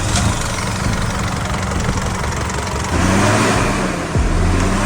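A diesel engine in an Isuzu truck, just after an injector pump replacement, runs steadily and loudly up close, settling into an idle with a brief surge in revs toward the end.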